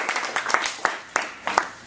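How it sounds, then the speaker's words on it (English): An audience in a university classroom gives a round of applause after a debate, with steady crowded clapping and a few louder claps standing out near the front. "let's give them a nice round of applause"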